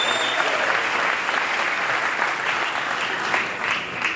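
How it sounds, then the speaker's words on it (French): A crowd applauds at a political opposition convention, with loud, sustained clapping that holds steady throughout, swelling slightly toward the end. "Monsieur Jacques Chaloupa, sous vos applaudissements"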